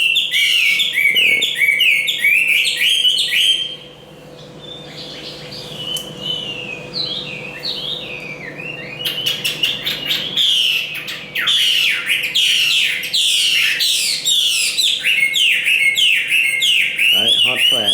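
A large caged Chinese hwamei songbird sings loud and close with fast, varied whistling phrases and trills that run almost nonstop, dropping away briefly before returning in full.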